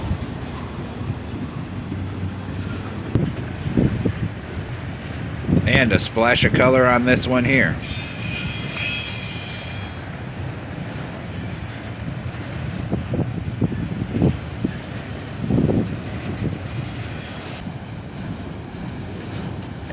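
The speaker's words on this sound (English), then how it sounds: "The entire rear half of this train was auto racks." A CSX freight train made up of auto rack cars rolls steadily past in a park, giving a continuous low rumble with wind buffeting the microphone, while someone talks over it.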